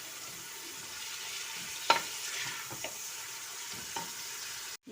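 Sliced large onions fry in ghee toward light brown, giving a steady soft sizzle with a few brief stirring scrapes and clinks, fairly quiet and without talk.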